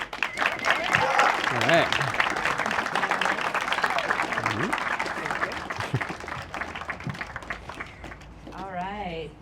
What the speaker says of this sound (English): Big round of applause for Josh and Bridger.